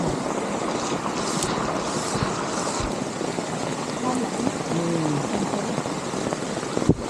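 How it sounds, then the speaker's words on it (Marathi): Heavy monsoon rain and a fast, dangerously swollen stream in Sandhan Valley roar as a steady, loud broadband wash throughout, with wind buffeting the microphone and no talk. "पाण्याचा फ्लो बघा, असला डेंजर फ्लो चाललाय पाण्याचा"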